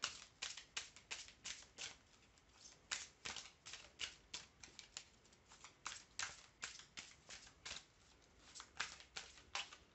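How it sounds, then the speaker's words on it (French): Oracle cards being shuffled and handled, with one falling out of the deck: a faint, close run of quick papery flicks and taps in an uneven rhythm, heard alone in a quiet room. "Ah, une carte qui tombe."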